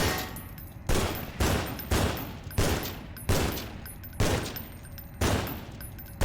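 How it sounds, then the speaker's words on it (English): An AK-47 in the Half-Life 2 beta fires in rapid automatic bursts, about eight sharp, loud volleys in a steady rhythm with short gaps between them, no talking. "Gordon Freeman had a fucking AK-47 at some point in development. And it does have different firing modes."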